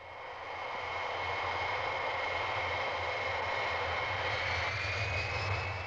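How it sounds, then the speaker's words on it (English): A NATO E-3A surveillance aircraft rolls for takeoff with a loud, steady engine roar and a high whine that holds throughout. "Rolling for takeoff goes NATO 39, an aircraft that once on station is given the code name"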